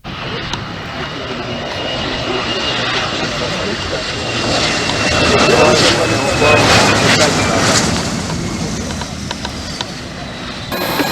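A loud airplane engine roar swells as the aircraft approaches, peaks, then eases slightly, steady and droning with faint voices in the background.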